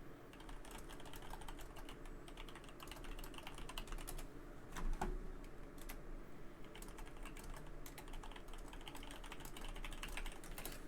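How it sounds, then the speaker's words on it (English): Fingers tap steadily on a computer keyboard nearby, a continuous faint clatter of keystrokes over a low steady hum, with no talking. "Sorry, typing."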